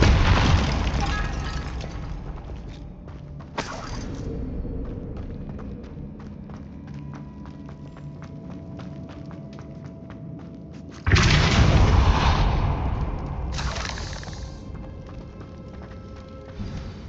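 Depulso force spell blasts from Hogwarts Legacy, two loud bursts roughly seven seconds apart, each a broad crashing whoosh that decays slowly, over a steady low game ambience.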